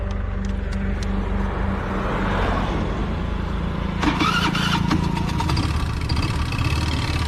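A broken-down car's engine at night on a roadside, cranked and coughing into a rough, uneven run, its low rumble steady at first and then joined by sharper rattling knocks partway through, fairly close.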